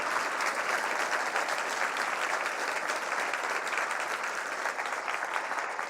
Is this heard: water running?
no